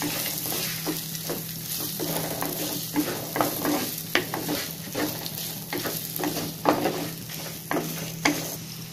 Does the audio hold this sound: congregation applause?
no